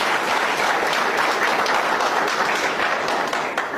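Audience clapping at a talk by an Ethiopian ustaz, a dense, even burst of many hands that holds steady before easing slightly at the end, with no voices over it.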